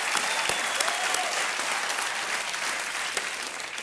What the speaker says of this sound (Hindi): एक बार फिर ताली।